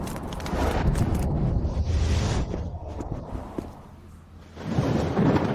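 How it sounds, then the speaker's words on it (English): Thunder rumbles on a snowy night in a stormy fantasy setting, a loud, deep rolling roar that swells, fades into a quieter stretch, then surges again near the end. "In this snowy weather, why is there thunder and lightning?"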